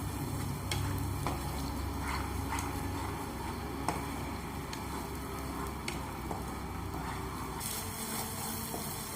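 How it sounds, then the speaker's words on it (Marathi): Masala sizzling and being stirred in hot oil in a pan while cooking a brinjal and potato curry, with a steady frying hiss and scattered spoon scrapes and ticks running throughout, no voices. "आता हे आपण तेलात छान परतूया।"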